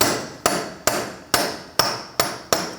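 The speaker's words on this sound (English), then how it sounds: "I'm going to use a punch and a hammer." Hammer striking a punch to free the front axle from the wheel hub of a 2000-2006 Mini Cooper, seven sharp metallic blows at a steady, close rhythm with short ringing decays and no talk.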